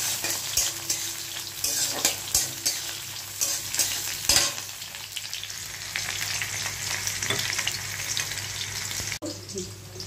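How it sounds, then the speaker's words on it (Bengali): Onion and garlic fry in oil in a pan, giving a constant close sizzle punctuated by repeated scraping and knocking strokes of a spatula as they are stirred, with no talking. "পেঁয়াজ আর রসুনটা ভালো করে ভেজে নিচ্ছি আমি।"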